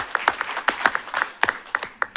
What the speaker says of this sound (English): Let's give a round of applause to Commissioner Patterson.